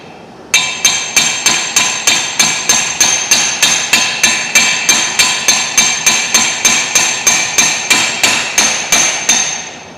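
A seal being driven in with a hammer striking a socket held on the race, Massey Ferguson MF 300 combine clutch rebuild; about twenty-five sharp metallic blows in a steady, even rhythm, loud and close.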